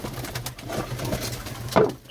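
Soft, low pigeon cooing murmurs over a steady background hum, with a slightly louder coo near the end.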